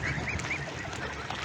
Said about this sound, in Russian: купать своих гусей